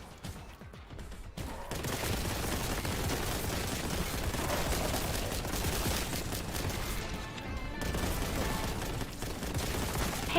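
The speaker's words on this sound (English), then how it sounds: "the gun that we have fires miniature rockets that explode on contact" Rapid explosive gunfire from a rocket-firing bolt weapon in Warhammer 40,000: Boltgun, carried by a towering power-armored soldier; loud, dense fusillade bursts run almost continuously after a brief quiet opening, with no talk.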